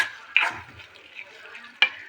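A cooking mixture is stirred in a pan, with two sharp scraping strokes of a utensil over a faint background sizzle, close and otherwise quiet.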